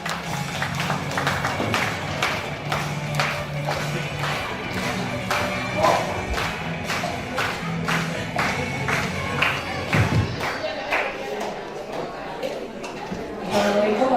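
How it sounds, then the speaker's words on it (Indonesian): An audience at an Indonesian health outreach event applauds in a series of sharp, irregular clapping bursts, fairly close, mixed with crowd murmur and a speaker talking. "Mau semuanya tepuk tangan yang meriah."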